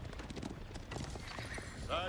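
Cavalry horse archers in a strategy video game: clustered hoof clip-clops with a short whinny near the end, moderately quiet beneath a commentator talking.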